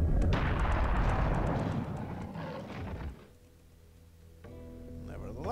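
Cannon fire in the Serious Sam video game, a heavy booming blast that rumbles and fades over a few seconds before quieter game sounds resume, with no talking.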